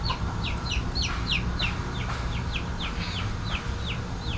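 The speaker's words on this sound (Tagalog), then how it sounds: "Marami pang kumakakak." Hens cackling on a small backyard farm where chickens have just laid eggs, repeated short rising calls overlapping in a steady chorus over a constant low background hum.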